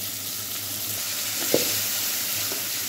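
Garlic, ginger and tomato fry steadily in a pan for mutton pulao, a constant close sizzle with one brief stir or clatter midway and no talking.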